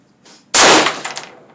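A single sharp gunshot from a rifle fitted with a West Lake Tactical 3-chamber muzzle brake cracks loud and close, then rings off with a brief echoing tail.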